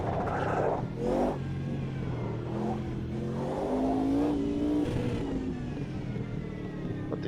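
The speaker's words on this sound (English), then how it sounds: "And you can already hear that it has quite a nice engine." A Sauber C9 race car with a 5-liter V8 in the Automobilista 2 racing game, engine revving and shifting through rising and falling pitches, loud and continuous with no talk.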